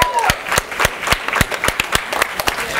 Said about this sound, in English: Round of applause for our action takers.